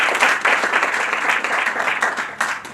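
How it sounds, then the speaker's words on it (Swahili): Audience applause at a government event, a continuous burst of many hands clapping, loud and close, filling the whole stretch without talk. "Thank you. Makofi."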